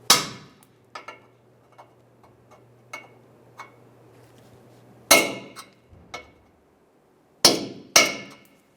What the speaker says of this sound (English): We're going to use a punch and a hammer and pop these through.